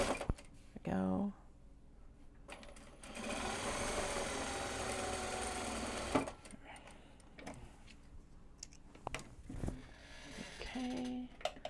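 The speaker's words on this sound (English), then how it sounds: "Actually start this bobbin winding." Sewing machine winding a bobbin during a drawstring bag project, a steady buzzing whir lasting a few seconds among brief clicks, handling noises and quiet talk nearby.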